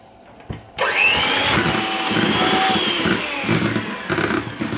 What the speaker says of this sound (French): sur les blancs, je mets quelques gouttes de jus de citron et je commence à fouetter